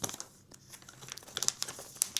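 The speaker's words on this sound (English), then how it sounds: "this is a resealable bag" Resealable plastic bag from a Blokus strategy game box crinkled by hand, a close run of crisp rustles and crackles with sharper bursts near the end, no talking.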